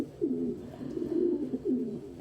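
A pet dove or pigeon coos softly and close by, giving three or four rolling coos in a gentle rhythm over quiet room background.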